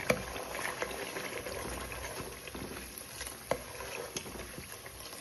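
Butter boils in a pan while being cooked down into homemade cow's-milk ghee, giving a steady close bubbling fizz with scattered small pops and crackles throughout, and no voices.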